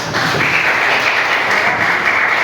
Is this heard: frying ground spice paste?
no